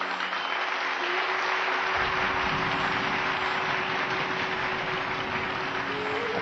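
A huge, deafening ovation for Swami Vivekananda's speech in America fills a large hall with dense, continuous clapping. A steady low hum runs underneath, and the applause stays loud and unbroken throughout.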